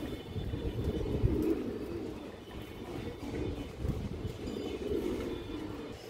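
A Giyachulli female pigeon coos softly amid a steady low rumble of background noise, with a few faint bird chirps scattered over the top.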